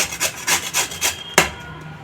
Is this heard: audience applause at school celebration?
no